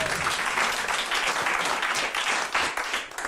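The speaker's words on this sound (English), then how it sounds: "Give Nick a round of applause." A live show crowd applauds a volunteer called up on stage, a dense, steady wash of many hands clapping throughout, fairly loud and close with no speech over it.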